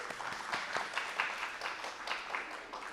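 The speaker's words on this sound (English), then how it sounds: "so let's give everyone a little applause." An audience at an evening poetry and art reading gives soft, steady applause, a dense patter of many hands clapping at moderate distance for a few seconds with no talk over it.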